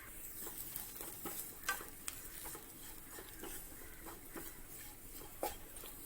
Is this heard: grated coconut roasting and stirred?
yes